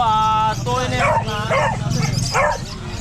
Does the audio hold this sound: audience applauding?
no